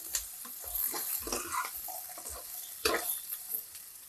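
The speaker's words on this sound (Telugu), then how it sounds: "దీంట్లో వేసి దీన్ని బాగా కలిపెట్టాలి" Boiled legumes for sundal are stirred in a pan, producing soft, continuous scraping and shuffling with faint sizzle and a few light clinks, close but quiet and with no voices.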